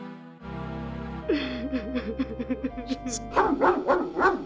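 Dog barks in the King's Quest 7: The Princeless Bride video game: a burst of rapid yapping barks joined by a sustained tone, then a louder cluster of yips near the end over game music.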